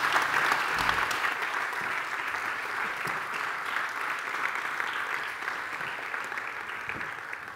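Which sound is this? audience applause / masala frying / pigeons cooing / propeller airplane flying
audience applause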